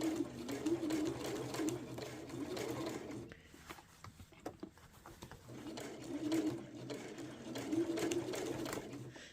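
Sewing machine with a walking foot stitching a quilted hot water bottle cover, a steady mechanical whir that pauses midway for a few seconds of small clicks and handling noises, then resumes at an even, moderate pace.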